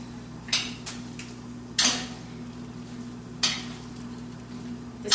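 Pasta with cream cheese sauce is tossed in a pan with a utensil, giving a few short, separate scraping clinks over a quiet background hum, with no voice heard.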